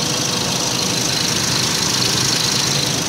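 A car engine idles steadily while its coolant system is bled, giving a continuous, fairly loud mechanical hum with a faint knocking texture and no talk.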